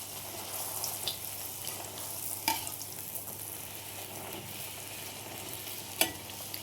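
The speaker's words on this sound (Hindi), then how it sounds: "ऑयल गरम हो गया है अच्छे से, अब पूड़ी फ्राई कर लेंगे इसमें।" Puris frying in hot oil give a steady, even sizzle with a few sharp spatters and clinks of a slotted spoon, no voices over it.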